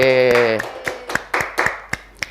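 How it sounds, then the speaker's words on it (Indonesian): Students in a classroom during a micro-teaching lesson clap their hands in a series of sharp, separate claps, about eight in all, that come after a voice speaks at the start. "tepuk tangan dulu buat Sipa."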